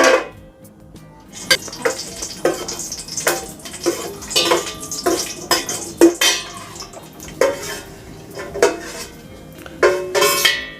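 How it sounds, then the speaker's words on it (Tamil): Cashews and raisins fry in ghee in a pan for a pink balls payasam, with a metal spoon scraping and clinking against the pan in steady repeated strokes over a faint background. "இப்போ அந்த நெய்யிலே வந்து முந்திரி திராட்சையை ஃப்ரை பண்ணி எடுத்துக்கலாம்"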